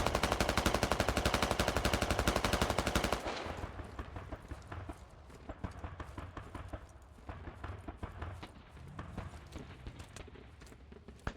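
Vehicle gunfire in the military shooter game Squad: a dense, loud burst of rapid automatic fire for three seconds, then scattered quieter shots and impacts trailing off.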